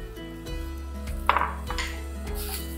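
Requeijão cream cheese being stirred into a vegetable-broth mixture in a pan while making baked calabresa pastries, giving soft scraping and clinks of utensil against the pan over a low steady hum, with one sharper knock partway through.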